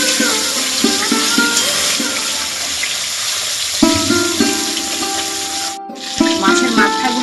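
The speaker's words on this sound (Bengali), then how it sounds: "মাছের মাথাগুলো খুব ভালো করে লাল লাল করে ভাজা হয়ে গেছে" Fish heads frying in hot oil in a pan, a steady loud sizzle and crackle that continues throughout with only a brief dip near the end.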